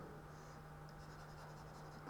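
A pen colouring in squares on a paper mock exam page makes faint, rapid scratching strokes in a quick repeating rhythm over a low steady hum, close and quiet.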